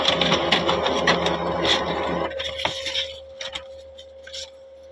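A passbook printer prints a UBI bank passbook, its dense mechanical chatter running steadily for about two seconds before fading into faint ticks and a sustained electronic tone.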